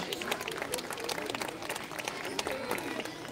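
A festival crowd at a Circassian culture event applauds a woman guest as she comes up, a faint, even wash of clapping hands lasting throughout, with voices mixed in.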